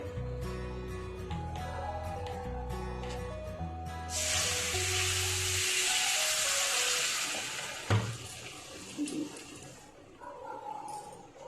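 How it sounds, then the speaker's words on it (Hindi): Water poured into roasting besan and sugar for halwa bursts into a loud, broad hissing sizzle that lingers for several seconds and then slowly fades, with music playing underneath at first. "शक्कर डालने के बाद इसमें पानी डालेंगे।"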